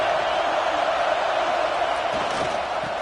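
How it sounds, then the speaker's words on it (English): Constant roar of a video-game football stadium crowd during a red-zone defensive stand, a dense, loud wash of cheering that holds steady throughout with no talk over it. "And here comes the noise. This crowd is trying to inspire this defense to make a big red zone stop."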